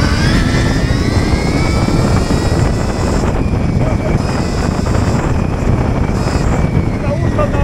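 Stark Varg MX1.0 electric motocross bike ridden at 30 horsepower, a loud, continuous high electric whine with shifting pitch over heavy wind rumble, close throughout.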